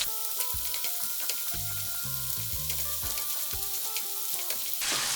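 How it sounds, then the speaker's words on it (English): Garlic sizzles with ground pork and oyster sauce in a hot pan, a steady close frying crackle broken by the scrape and clatter of stirring, with no talking. "Make a space in the middle and add the garlic. Sauté until fragrant, about 30 seconds."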